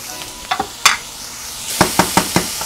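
Steady sizzle of oil in a pan with several sharp knocks and scrapes of a spoon stirring, close and loud, as food fries on the stove before vegan beef crumbles go in.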